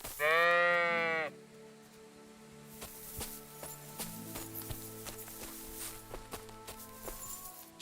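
A single sheep bleats loudly and close for about a second, followed by quieter rustling, footsteps and faint low tones.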